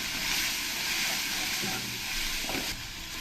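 Ginger-garlic-chilli paste and ground spices sautéing in a pan for Bengali prawn malai curry, a dense steady sizzle with a few stirring scrapes near the end.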